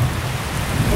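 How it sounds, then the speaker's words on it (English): Heavy rain pours down steadily at a camp under a bug net, a dense continuous hiss of drops drumming on surfaces, close and unbroken. "Now it's pouring."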